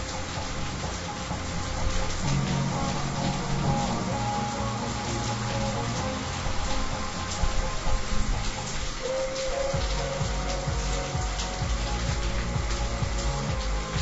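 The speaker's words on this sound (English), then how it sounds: "Hope it quits raining soon, though." Steady rain pours down, a dense continuous hiss with patter and rumble throughout, no voices.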